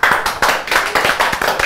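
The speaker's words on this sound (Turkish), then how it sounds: "Evet, bu alkışlar gerçekten air fryer'a geliyordu" Hands clapping in a quick, steady rhythm at close range, a small burst of applause in a home setting, crisp and fairly loud with no other sounds around it.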